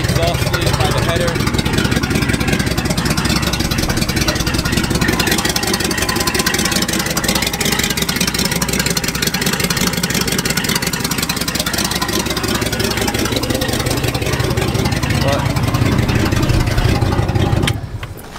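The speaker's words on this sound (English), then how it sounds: "Still has the exhaust leak by the header." A loud 1971 Ford F350 truck engine idling steadily with a rough, rattling tone from an exhaust leak at the header, running continuously before cutting off abruptly at the end.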